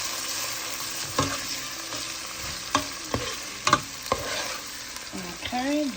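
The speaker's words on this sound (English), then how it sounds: "go ahead and saute and flavor my rice" Seasonings sautéed in achiote oil for rice and pigeon peas, a close sizzle broken by spoon scrapes and clinks against the pot, with no talking.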